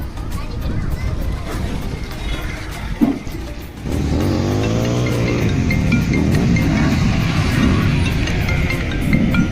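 Bikers ride motorcycles along a hill road at Yercaud. Engines rise loud and sweep past close by, with a sharp thump early on and voices nearby.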